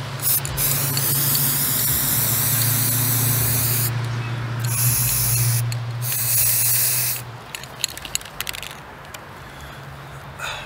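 Steady hissing spray from an aerosol paint can sprayed straight down onto scooter parts for hydro dipping, running continuously for several seconds before stopping, followed by a few light clicks and rattles.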